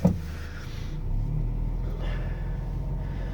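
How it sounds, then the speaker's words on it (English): Low exhaust rumble from a 2017 Mazda Miata RF sports coupe idling and pulling away on a chilly day, a steady deep drone heard from inside the car after a brief sharp knock at the start. "you could hear the rumble of the little exhaust there"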